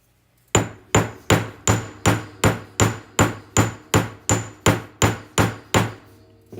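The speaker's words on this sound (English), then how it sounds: "Then for this setting, we're making our own setting. And just gonna hammer" Steady series of about fifteen evenly spaced metal hammer strikes on a handmade jewelry setting, each a sharp ringing blow with a short decay, loud and close with no talking.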